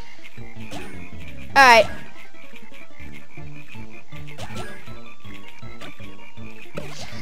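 Frogs croak in the Animal Jam Play Wild video game among steady game sounds and music, with a sharp burst near the start and a voice speaking briefly.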